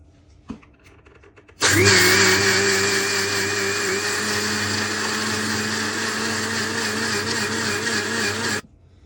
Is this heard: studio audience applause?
no